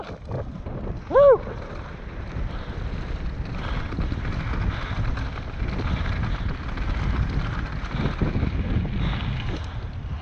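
Strong wind roars steadily against the microphone throughout a mountain bike descent at Whistler Bike Park, with a brief shout near the start.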